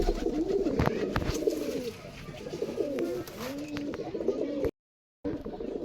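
Rampuri and Pakistani breed pigeons coo repeatedly in soft, rolling, throaty phrases, close by, over a low background murmur, with a brief silent gap near the end.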